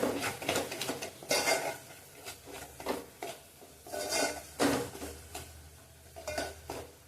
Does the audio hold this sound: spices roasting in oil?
yes